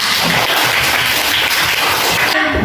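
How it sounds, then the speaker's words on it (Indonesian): Children in a classroom clap together for a classmate, a dense, steady burst of applause filling the room for a few seconds before breaking off sharply. "Tepuk tangan buat Raisa"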